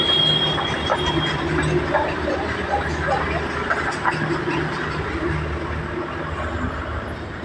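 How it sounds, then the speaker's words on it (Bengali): Darjeeling toy train passing on the hill line toward Ghum: a steady rumble of wheels and carriages with a faint squeal near the start, close and continuous, slowly easing off. "এই টয় ট্রেনটা দার্জিলিং টু ঘুম স্টেশনে পর্যন্ত যাতায়াত করে"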